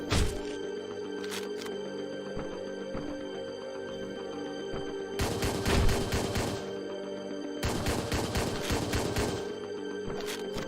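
A handgun firing in Hotline Miami 2: Midnight Animal, with two clusters of sharp, rapid shots over a steady droning synth music bed that plays throughout.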